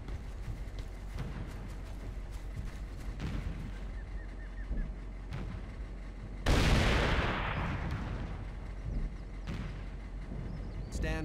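Artillery rounds land during a fire mission in the military shooter Operation Flashpoint, with one loud, close blast rolling out mid-clip among scattered lighter gunfire and battlefield noise.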